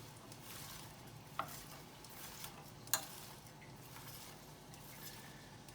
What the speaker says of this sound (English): Give this a stir so they can all get a little bit of that lovely butter.